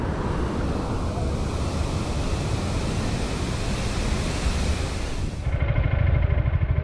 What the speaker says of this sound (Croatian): Moćan vodopad.